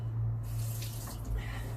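Kitchen tap water running briefly over garlic being rinsed, a close, soft splashing stream with a faint hum underneath and no talk.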